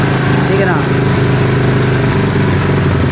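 A motorcycle engine idles steadily and fairly loud during a carburetor adjustment, with a brief rise in pitch early on, while someone talks over it.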